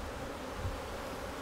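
Honey bees buzzing at an opened hive during a hands-on beekeeping session, a faint, steady low drone of many insects throughout with no talking.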